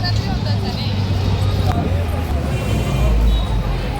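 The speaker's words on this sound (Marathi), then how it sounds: "आता बघू शकता किती गर्दी आहे" Dense crowd hubbub at the Shri Sadguru Shankar Maharaj samadhi festival on his Pragat Din, a steady wash of many voices and bustle, close and continuous, with low traffic rumble beneath.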